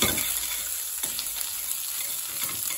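Ginger frying in a hot pan for a chicken bhuna, a loud steady sizzle and crackle with light stirring scrapes, close up and without talk.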